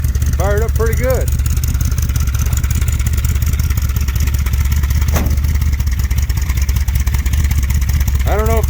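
A Dodge street van engine with custom side pipe exhaust idles steadily and loud throughout, with voices speaking briefly over the low rumble near the start and end.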